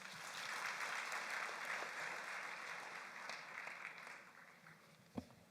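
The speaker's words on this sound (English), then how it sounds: "Another round of applause, please." A graduation ceremony audience applauds, a broad steady patter of many hands heard from a moderate distance, gradually thinning out, with a single sharp knock near the end.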